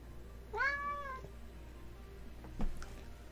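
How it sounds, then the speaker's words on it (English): A house cat named Angel gives a single clear meow as it walks into a room, followed by a faint short chirp a moment later, otherwise quiet indoor background. "The cat just came in."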